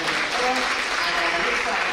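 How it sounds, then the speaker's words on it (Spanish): An audience at a Latin American social pedagogy congress claps in a continuous, fairly loud wash, with faint voices mixed in under the clapping. "me he merecido un aplauso brillante para todos"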